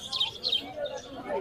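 Birds, including lovebirds, chirping at a busy bird market: a few quick, high, bright chirps close by, over a low background murmur.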